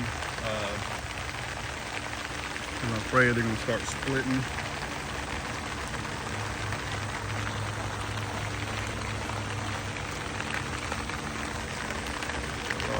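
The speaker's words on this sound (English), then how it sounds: "We're getting a lot of rain." Steady rain falls on a garden, a constant even patter that continues throughout, while someone speaks briefly near the start.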